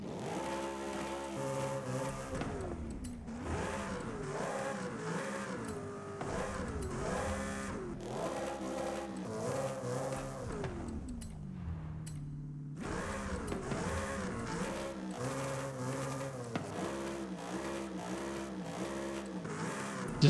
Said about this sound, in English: Just listening to the exhaust noises.